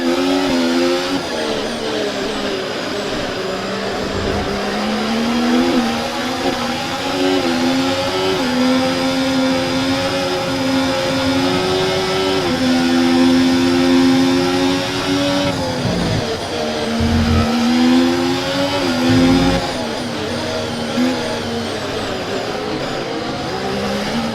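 A Formula 1 car's engine on the Austin, Texas circuit in the F1 24 racing game drones at high pitch with sustained, fluctuating revs. A few brief dips and surges break the tone, and faint tyre squeal runs under the loud, continuous whine.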